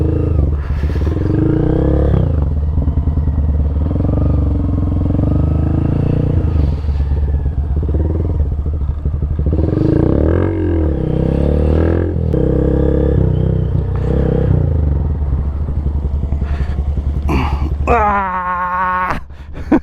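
Honda Grom motorcycle engine running steadily at low speed with clutch control, a loud continuous near drone with small revving swells, a brief sharp rev near the end.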